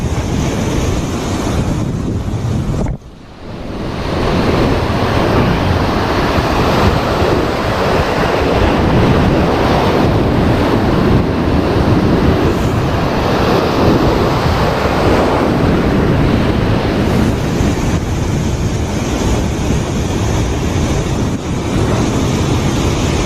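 Loud, roaring surf with heavy waves breaking continuously over sharp rocks at a fishing spot in Agno, Pangasinan, mixed with strong wind buffeting the microphone throughout.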